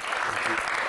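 Steady applause from a live audience at a public forum in Guinea, a dense even patter of clapping filling the whole moment at moderate level.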